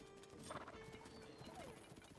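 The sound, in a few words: golden horse hooves and neigh in Tears of the Kingdom video game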